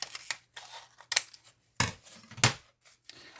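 Several quick snips of scissors cutting paper for a scrapbooking box, close and crisp, in separate short strokes with quiet pauses between.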